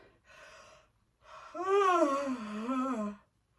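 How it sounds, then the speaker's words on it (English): A single drawn-out vocal yawn, given as a singing-lesson demonstration of the lifted soft palate: a brief breathy intake, then a voiced tone that swells, wavers and falls away, close and fairly soft. "So when we yawn,"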